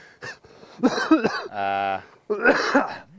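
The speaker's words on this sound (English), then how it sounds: "So bad it gave me a coughing." A few close coughs mixed with throat sounds, followed by a steady held vocal tone and more voiced noises, with speech-like sounds around them.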